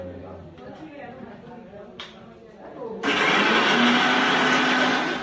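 A kitchen mixer grinder starts up abruptly after a few seconds and runs with a loud, steady whirring roar; someone talks in the quieter moments before it starts.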